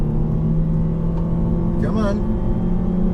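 A sporty car pulls away from a standstill in a 0-60 mph acceleration test, its engine a steady low drone throughout. A voice briefly calls out midway.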